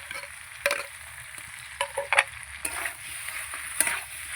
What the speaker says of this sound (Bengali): এবার দিয়ে দেবো ভাজা শুটকি মাছটা, এই যে দিয়ে দিচ্ছি।